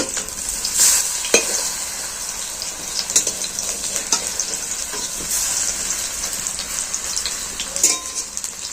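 Oil sizzles steadily around a batter-coated piece of cabbage and egg roll shallow-frying in a pan, with occasional sharper crackles and spatters close by.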